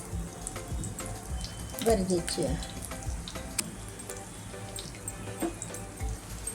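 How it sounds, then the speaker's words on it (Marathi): Mustard and cumin seeds crackle in hot oil in a frying pan, tempering for a valpapdi bhaji, a steady fine sizzle with sharp pops while someone speaks briefly over it. "मोहरी तडतडली आहे, आता आपण जिरी टाकूया."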